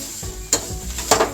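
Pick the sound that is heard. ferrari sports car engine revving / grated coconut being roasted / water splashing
grated coconut being roasted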